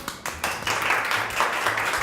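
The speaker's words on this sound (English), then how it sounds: "Okay, clap your hands." A classroom of eighth-grade students clapping their hands, a ragged burst of many claps that starts loud and then settles into a steady patter.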